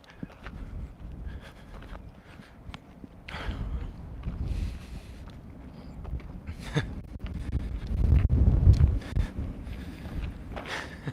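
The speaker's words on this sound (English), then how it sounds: "it's a little windy" Wind gusts buffet a microphone outdoors, a low rumbling roar that rises and falls, swelling strongest near the end, with no talk over it.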